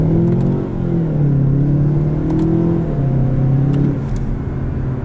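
2018 Mazda6 accelerating hard with traction control off, a loud steady engine drone that rises in pitch through the gears, heard from inside the car with no talking.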